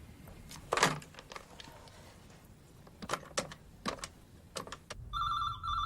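A telephone bell rings in a room, its electric trill starting near the end after several sharp knocks and clatters, loud and close.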